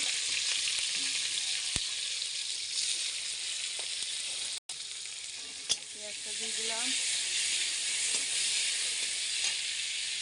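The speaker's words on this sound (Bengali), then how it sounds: "তেলটা গরম হয়ে গেছে এবার দিয়ে দেবো পেঁয়াজ পেঁয়াজ দিয়ে দিচ্ছি" Onions dropped into hot oil for a prawn, potato and pointed gourd curry sizzle loudly and continuously, with a brief break in the middle and a few sharp utensil clinks, while a faint voice murmurs beneath.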